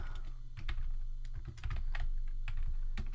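Close, quick typing of code on a computer keyboard, a steady, busy patter of key clicks with no one speaking.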